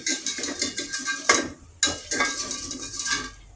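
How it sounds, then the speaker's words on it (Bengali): Spinach pakoras frying in oil as they are stirred and flipped, with steady close sizzling broken by rhythmic scraping clinks of a utensil against the pan and a couple of sharper knocks midway. "আমি এটা সুন্দর করে উল্টে উল্টে দিচ্ছি"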